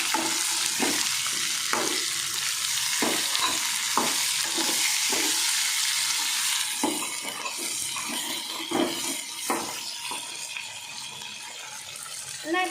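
Tomatoes added to sautéed onions for coriander seed chutney, sizzling steadily in a pan with a bright hiss and a rhythm of stirring scrapes throughout, no voices.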